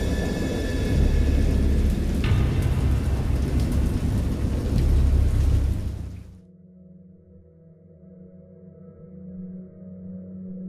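A heavy thunderstorm roars with dense, loud rain and deep rumbling thunder for about six seconds, then cuts off abruptly to a low, muffled background hum.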